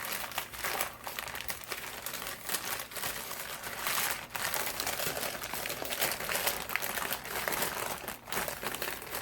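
A plastic shipping bag being opened by hand, with continuous close crinkling and crackling of the plastic throughout.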